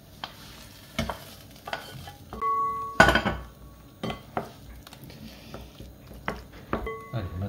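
Diced bell pepper stirred into a surimi rice salad in a bowl, with a spoon scraping and clinking against the bowl in irregular knocks, close and clear, one louder clatter in the middle.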